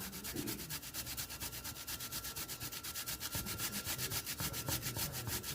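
Food rubbed by hand against a grater for a bacon-wrapped pickle dish cooked beside a smoker, a steady rapid rasping in close, even strokes running the whole time with no talking.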